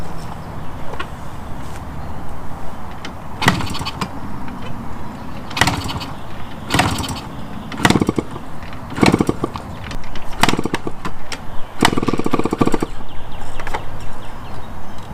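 Attempted start of a $150 barn-find Yamaha RX50 motorcycle with gas in the carb: a series of loud, close bursts of cranking and sputtering, each a second or so long, separated by short pauses, over a steady background.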